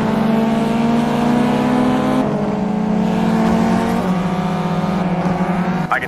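Compact race car engines in the GT Racing 2 mobile game drone loudly and continuously, shifting gears with steady revving pitch changes and a brief tire squeal near the end, with no talking.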